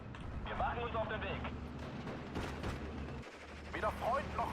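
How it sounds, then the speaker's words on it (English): Machine gun fire in the World War II strategy game Steel Division: Normandy 44, with bursts and distant booms rattling amid battle noise, someone talking over it. "MG's going to wipe out those guys"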